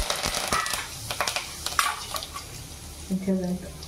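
Whole spices and curry leaves tossed into hot oil for an egg paneer masala, crackling and popping in quick irregular bursts close by, with stirring clatter and a voice speaking.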